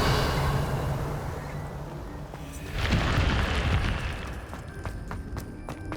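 A Revelio spell cast in the video game Hogwarts Legacy, a whooshing magical burst that swells with a boom midway and then gives way to bright shimmering chimes and sparkles.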